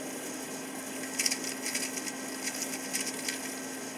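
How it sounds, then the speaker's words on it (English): A hand saw in a small jig cuts through a flathead 8-32 screw, a short run of quick, fairly quiet rasping strokes over a low background hum. "I actually made that little saw jig to cut off flathead screws"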